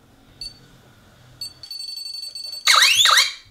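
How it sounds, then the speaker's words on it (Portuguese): An Intelbras ANM 24 Net alarm panel sounds its arming beeps: two short isolated chirps, then a sustained steady tone, ending in a louder warbling burst, all close and clear with no voices. "Fez o bip de arme, foi um tempo perto de 30 segundos que minha central está armada."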